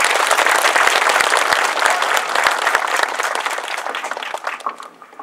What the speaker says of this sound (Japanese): 拍手をお添えください。